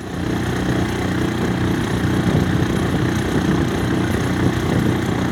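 A boat's outboard motor on Logan Martin Lake keeps up a steady, rough mechanical drone, fairly close and constant throughout.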